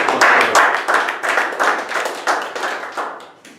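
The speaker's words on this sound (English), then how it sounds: "big round of applause for Toastmaster." A small group at a Toastmasters meeting claps in brief, distinct rhythmic bursts, close and fairly loud, tapering off over a few seconds.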